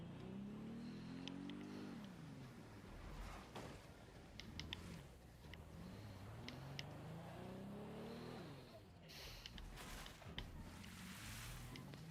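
Car engine in Horizon Zero Dawn, heard as a game soundscape with repeated rising and falling engine revs and mechanical creaks, loud and continuous over the whole stretch with no talk.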